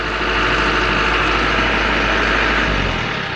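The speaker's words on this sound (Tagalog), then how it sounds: "Medyo ba yung tunog na makina?" A heavy pickup truck engine idles steadily up close, a deep continuous rumble with a dense, grinding hum that holds level throughout.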